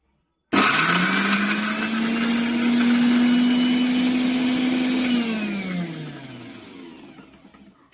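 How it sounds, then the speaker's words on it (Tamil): A kitchen mixer grinder whirs at high speed as it grinds onion, garlic and dried red chillies, rising to a loud steady drone for several seconds, then winding down and fading out. "ஆறின இந்த வெங்காயம், பூண்டு, வரமிளகா இது எல்லாத்தையும் நம்ம என்ன பண்ணுறோன்னா ஒரு மிக்ஸி ஜாருக்கு மாற்றிட்டு இதை நல்லா அரைக்கணும்"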